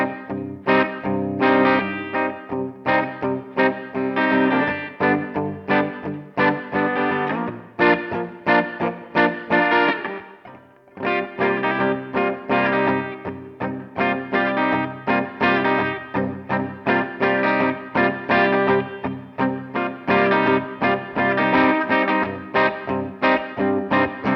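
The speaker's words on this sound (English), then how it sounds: "Back to the clean tone. Let's just have a bit of reverb on and let's play through some chords." Left-handed 2016 Epiphone Les Paul Custom Pro electric guitar strumming a steady run of chords in a clean tone with reverb, full and sustained, briefly pausing midway before continuing.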